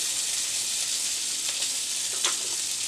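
Nuts and raisins fry lightly in hot oil for milk laccha semai, a steady close hiss and sizzle with a few faint stirring scrapes.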